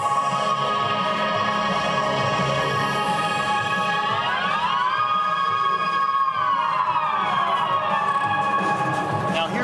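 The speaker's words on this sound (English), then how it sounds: "there's a great one here called Northern Lights that just sounds absolutely fantastic" Korg Radias synthesizer playing its Northern Lights patch at a 2008 music trade fair, a bright sustained chord whose pitch glides up and then slowly bends back down over steady hall noise.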